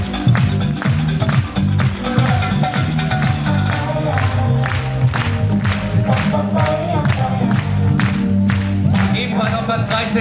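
Audience at a German beach volleyball championship men's award ceremony applauding and cheering throughout, a loud sustained crowd noise with music-like tones underneath and no clear speech.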